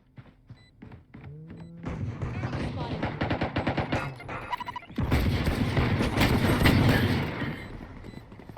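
Rapid pistol and automatic gunfire in the video game Valorant, dense runs of sharp shots with a loud sustained burst in the second half, close and loud, with voices talking over it.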